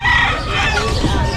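Roosters and hens at a crowded pet market stall in Malabon, with a nearby crow rising over constant clucking and scattered bird calls, while faint human chatter sits in the background.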